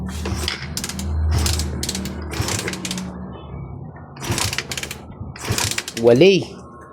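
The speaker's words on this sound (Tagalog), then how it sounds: "subukan natin siyang paandarin mga bro, kung aandar siya" Attempts to start a Raider 150 motorcycle with a new wiring harness that is not passing current: repeated mechanical clicking and ratcheting of the starter mechanism in short bursts, with no engine catching.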